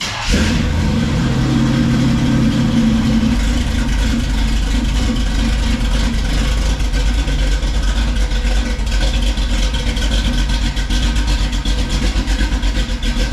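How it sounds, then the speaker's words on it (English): Cammed Chevrolet C10 pickup fitted with Flowmaster Super 44 exhaust mufflers, starting cold after sitting overnight, settles into a loud, steady, lopey idle rumble up close. "Now that the truck's been sitting all night, hit it again with a cold start."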